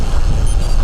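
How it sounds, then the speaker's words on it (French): Strong wind blasts across the microphone while cycling from Paris toward Mont Saint Michel, a loud, constant low roar with no speech. "Il y a un vent de fou."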